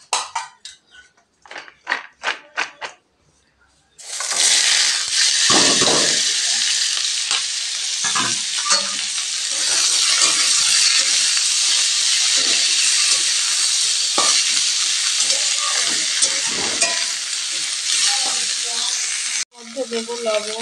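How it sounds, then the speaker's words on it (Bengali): Green jackfruit hits hot oil in a kadai and sets off a loud, steady sizzling hiss that continues for most of the stretch after a few sharp clatters at the start, close up and dominant. "তেল দিয়ে দিচ্ছি অল্প করে, যেহেতু আমি তেলের উপরে দেব ইঁচড়টা"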